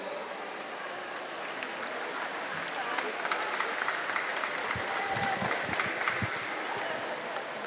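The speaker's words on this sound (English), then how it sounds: "Let's have a round of applause, everybody, for our backstrokers here this morning" A poolside crowd at a county swimming championship gives steady applause for the backstroke swimmers, a dense patter of clapping from a fairly distant crowd with a few louder claps up close.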